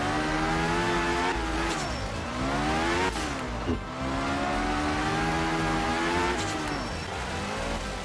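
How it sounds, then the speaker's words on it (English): A car held in second gear slides through corners, its engine droning loud and steady with the pitch rising and dipping between corners, and faint tire noise beneath, with no talk. "in second gear, this thing holds that slide really well"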